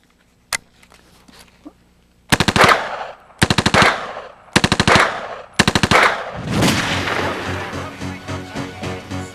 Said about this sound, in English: This is the MP5 submachine gun made by Heckler & Koch in Oberndorf, Germany.